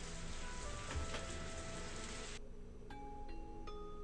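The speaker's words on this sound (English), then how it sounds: "God, the sound of rain puts me right to sleep." Steady rain hiss heard in the Higurashi visual novel, a broadband wash that runs loud and continuous before cutting off, leaving soft background music tones.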